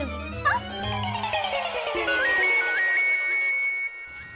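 A phone ringtone signals an incoming call in a Hindi TV serial scene. It starts as a bright electronic melody that repeats in short, rising chirps, loud and close, after a brief mix of other tones.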